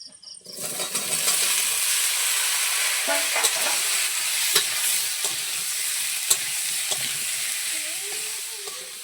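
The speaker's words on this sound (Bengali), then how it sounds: "দেখো আমি ধুয়ে ছেঁকে রাখা আলুগুলো এবার দিয়ে দেব" Washed, drained potatoes drop into hot oil in a village kitchen pan, setting off a loud, steady sizzle that holds for several seconds with scattered clinks and stirring knocks, no voices.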